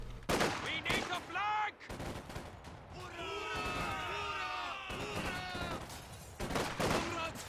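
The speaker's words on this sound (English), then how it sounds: "They spit out so many bullets so quickly there" In Company of Heroes 2, Sturm Pioneers fire rapid, clattering bursts of bullets, loud and close, with other battle sounds mixed in and a voice speaking over the fight.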